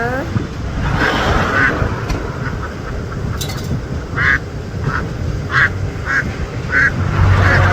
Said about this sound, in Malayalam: ഇപ്പൊ മൂന്ന് താറാവുകളാണ്